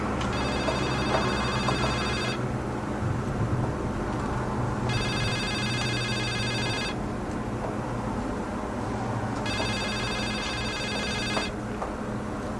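An old-style telephone rings in The Suicide of Rachel Foster, three long electronic trills separated by pauses, loud and close over a steady background hum.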